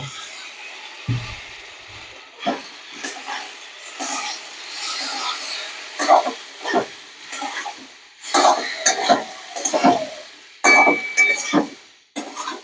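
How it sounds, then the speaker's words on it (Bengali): Spice paste frying in oil with a soft sizzle while pumpkin cooks, broken by repeated scraping and stirring strokes of a spoon against the pan, close up. "এবারে আমি মশলার পেস্ট দিয়ে একটু কষিয়ে নেব"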